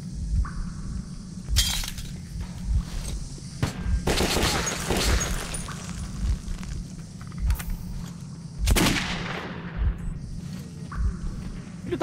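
Gunfire in the first-person shooter Metro 2033 set in metro tunnels, with several sharp bursts and shattering impacts scattered across the stretch over a steady low game rumble, some shots louder than others.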